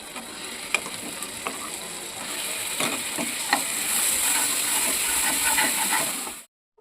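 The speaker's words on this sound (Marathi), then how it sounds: "आता मी याच्यात चटणी टाकते ती वाटलेली" Ground chutney hitting roasted garlic in hot butter, a close, steady sizzle with scattered spoon clicks and scraping that swells louder midway before cutting off abruptly at the end.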